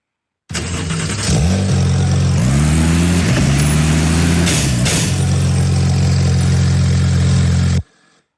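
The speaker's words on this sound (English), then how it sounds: "when it crashed into the barrier, it made that sound" A video game car engine hums loud and steady, rising and falling in pitch as it revs, with a sharp knock midway as the car crashes into a barrier, then a continuous drone until it cuts off.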